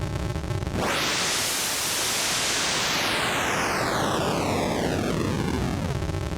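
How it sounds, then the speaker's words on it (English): Harsh, gritty squared-off random noise from a Korg Prologue 16 synthesizer bursts in abruptly and holds as a loud, buzzy, stepped static, its tone slowly sweeping downward, with no one talking. "So that's kind of more like a squared off noise."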